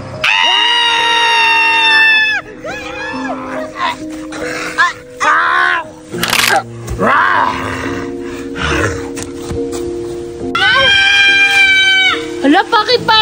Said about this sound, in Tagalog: bakit parang may sumisigaw?